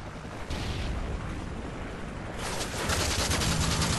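Dense, continuous gunfire from the Modern Warfare 3 video game, a loud sustained rattle of shots and explosions that swells halfway through, with no speech over it.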